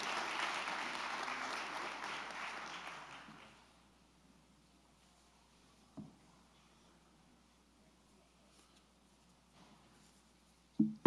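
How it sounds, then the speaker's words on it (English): A crowd at a school board meeting claps for an award for about three seconds, the applause fading out into near silence broken by a couple of small knocks and clicks. "Another big round of applause for our Illinois Principal Association Three Rivers Assistant Principal of the Year"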